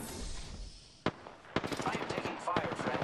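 Gunfire in the video game Apex Legends: a single sharp shot, then a quick burst of rapid automatic fire, and another short burst, close and punchy over quiet game ambience.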